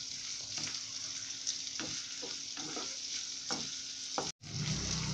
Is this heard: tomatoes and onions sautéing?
yes